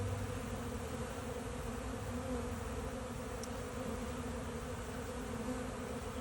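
Honeybees buzz steadily and densely inside a beehive around a caged queen, a continuous close, loud drone with no pauses.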